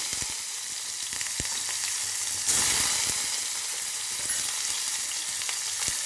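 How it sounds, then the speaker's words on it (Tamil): Mustard seeds, cumin, urad dal, a dried red chili and onion sizzling in hot oil for chow chow sambar, a continuous close hiss with small pops and stirring clatter, slightly louder midway. "எண்ணெய் காஞ்சிச்சு கடுகு போட்டுக்கலாம் கொஞ்சம் சீரகம் போட்டுக்குங்க கொஞ்சம் உளுந்தம் பருப்பு ஒரு வரமிளகா வெங்காயம் போட்டுக்கலாம்"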